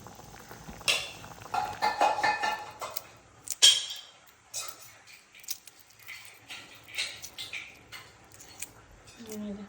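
Eggshells crack and are picked off boiled eggs for an egg curry in a home kitchen, giving scattered close crackling and scraping bursts at an uneven pace, with quiet pauses between them.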